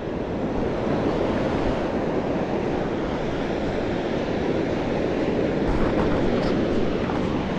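Ocean surf at a beach in Toyohashi, Japan, on a day of good waves: a continuous loud roar of breaking waves mixed with wind buffeting the microphone, steady throughout with no voices.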